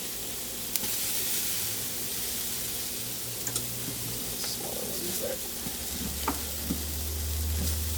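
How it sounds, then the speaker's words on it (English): Eggplant slices laid in a hot dry pan with no oil, giving a continuous soft sizzle and hiss with scattered light crackles and a few taps of pieces being placed. "with our pan nice and hot, we are going to put in our eggplant"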